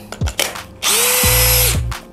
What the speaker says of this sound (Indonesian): Keduanya sama-sama hammer drill.